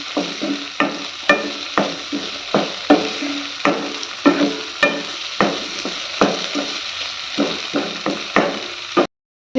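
Onion and tomato fry in a pan for a tomato and lentil sambar, a steady sizzle broken by rhythmic spatula knocks and scrapes, close and loud, ending in a brief silence.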